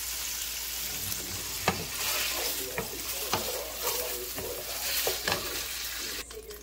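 Sausage and turkey sizzling and frying in a pan, a constant crackling hiss broken by several sharp clicks and scrapes of stirring.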